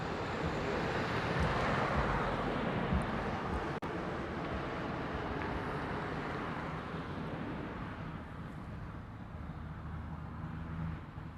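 Boeing 787 Dreamliner at Honolulu airport, a broad rumbling jet roar that swells early and slowly fades, mixed with wind buffeting on the microphone and a brief click partway through.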